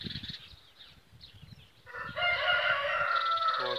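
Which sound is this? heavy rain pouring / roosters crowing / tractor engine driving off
roosters crowing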